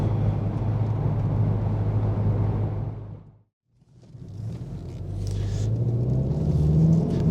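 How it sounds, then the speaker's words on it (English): A GTI's engine roars past close by through a corner, fades to near silence, then swells again as it accelerates away with a rising tone. "let's get to that corner and see how the car really sounds now"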